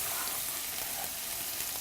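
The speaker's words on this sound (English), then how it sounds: "Now to this, we're going to add some of the onions that we had chopped earlier." Chopped onions fry in butter in a pan, giving a steady, dense sizzle that stays even throughout, close and unbroken by any voices.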